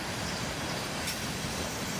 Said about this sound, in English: This one was highballing it out of town accelerating, and it was quite loud with these wheel sets coming around this curve.